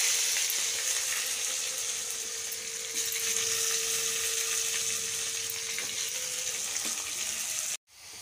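Tomatoes fry in oil with caramelizing sugar in a pan, making a continuous close sizzle and crackle with occasional stirring scrapes, before cutting off abruptly near the end.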